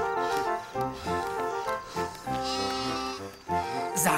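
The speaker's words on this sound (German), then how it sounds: "Geh zurück zu den anderen Schafen." Sheep bleat in an animated Bible story, several wavering, nasal cries one after another, loud and close, with music and other sounds around them.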